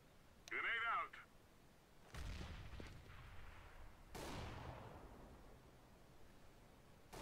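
In CS:GO, a thrown grenade and gunfire produce a brief sharp pop followed by two broad booming blasts with decaying rumble, fairly faint and spaced a couple of seconds apart, with no speech.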